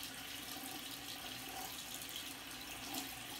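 Tap water runs steadily into a sink while hands are washed with soap, a continuous close splashing rush with no voices.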